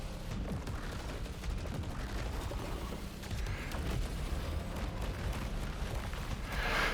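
Dense, roaring weapon fire rolls on without pause during a SAROS boss fight, a loud wash of shots and blasts with no voices over it.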